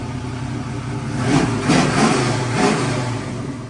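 Chevrolet Monte Carlo with a 383 stroker V8 revving up and down in three swelling blips over a steady rumbling idle, loud and close.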